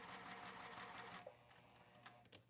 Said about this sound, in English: And then I would just sew across here.